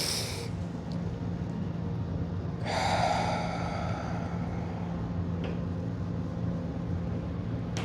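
A single deep inhale during a guided breathing and stretching exercise, a soft drawn-in breath of about a second rising out of a quiet, steady room hiss. A few faint breathy sounds come before and after it.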